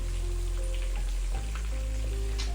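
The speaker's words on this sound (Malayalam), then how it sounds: "നമ്മൾ ചിക്കൻ വറുത്ത എണ്ണയാണ്, അപ്പോൾ ആ എണ്ണ ഇങ്ങോട്ട് ഒഴിക്കുവാണ്." Used oil left from frying chicken is poured into a hot pan for manthi and sizzles loudly and steadily, a dense crackling hiss that continues throughout with a brief disturbance midway.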